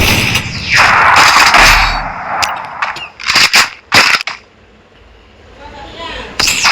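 Gunfire in the Free Fire mobile game: a dense burst of shots at first, then several sharp separate cracks and clangs with quiet gaps between them.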